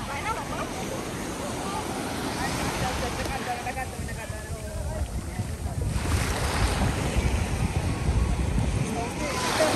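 Sea waves washing onto a beach at Fujairah, a steady broad rush of surf mixed with wind buffeting the microphone, swelling louder in the second half, with faint voices in the background.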